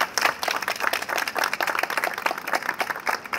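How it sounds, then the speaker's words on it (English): A crowd applauds the mayor at a Juneteenth gathering, with dense, fast clapping held at an even level throughout the short stretch. "So can we just give an acknowledgement of applause to our mayor?"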